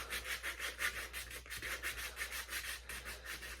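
Steady back-and-forth rubbing of sandpaper on a pen's hard surface, close up, in a regular rhythm of short scratchy strokes with a low hum underneath, roughening it for glitter.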